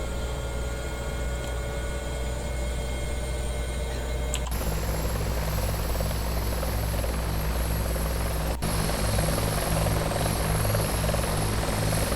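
A helicopter's engine and rotor run steadily and loud throughout, spooling up to flight RPM after external power is disconnected, a constant droning whine with a low rhythmic rotor thump and a sharp shift in tone partway through.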